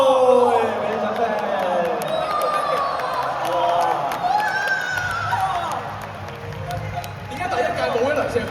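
Applause and cheering from an audience at a Hong Kong song festival award ceremony, sustained crowd noise with scattered whoops running under ongoing speech throughout.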